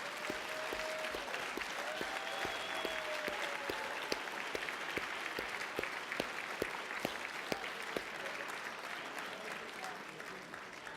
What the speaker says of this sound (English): let's give them a giant round of applause,